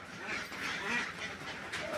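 Several ducks quack together nearby, a busy overlapping chatter of nasal calls.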